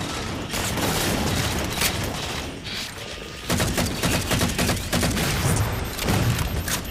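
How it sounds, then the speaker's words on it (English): Rapid bursts of assault rifle fire and explosions crackle in a Halo 4 Oddball multiplayer match, dense overlapping shots in quick volleys with a brief lull near the middle. "I'm just gonna switch over to my assault rifle."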